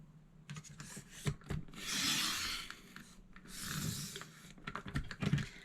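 An orange sheet of paper is cut for a fall scrapbook layout, giving two longer rasping cutter strokes between bursts of light tapping and handling, close and fairly soft with no talk.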